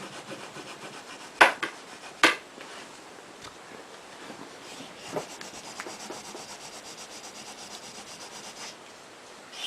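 An old rag rubbing along a Flemish bowstring gives soft, close scrubbing strokes, with a few sharper scrapes early on and quieter friction after.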